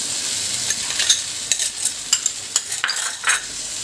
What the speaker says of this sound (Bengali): কর্ন পুরোটা দিয়ে দেব। আলুটা দিয়ে দেবো পুরোটা।